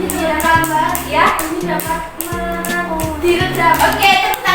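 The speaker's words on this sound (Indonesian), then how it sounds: "tepuk tangan kita bisa" Schoolchildren clap their hands in a primary classroom, a quick string of light claps set against keyboard-like music and a few young voices.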